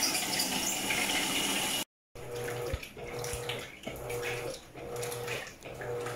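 Electrolux LED15/LED17 top-loading washing machine filling with water: a continuous loud rush of pouring water with a low pump-like hum, briefly cut off by a gap, then resuming steadily.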